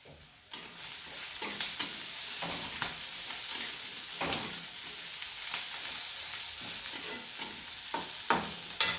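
Onion, turmeric, salt and peanuts stir-fried in oil for a bhakri crumble, a steady close sizzle with intermittent scraping stirs of a spatula in the pan.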